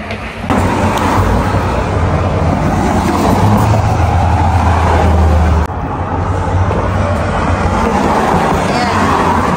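Fast car rushing past a roadside bus stop, a steady loud roar of road noise with heavy low rumble that swells and cuts off abruptly, then continues as lighter traffic wash.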